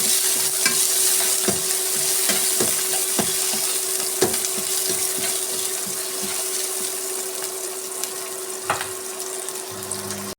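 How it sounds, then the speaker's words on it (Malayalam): Onion, capsicum, green chilli, coconut slivers and curry leaves sauté in a pan for a fish roast, a steady loud sizzle with repeated scraping stirs of a spoon, close up and without talk. "നന്നായി വഴറ്റിയെടുക്കാം."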